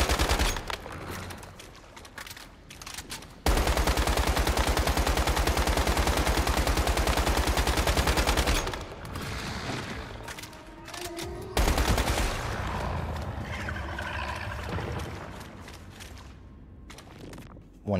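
Sustained bursts of rapid automatic gunfire in the survival shooter Once Human, loud and close, with a long continuous volley, a pause, then another stretch of shooting and impacts fading out.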